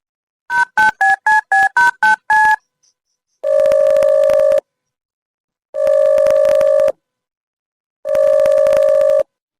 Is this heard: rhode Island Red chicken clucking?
no